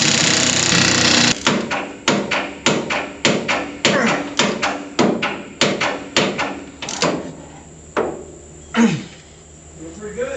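Bolts are tightened on a broken-down combine harvester during corn harvest: a rapid series of loud, close metallic impacts in a steady rhythm, slowing and thinning out toward the end.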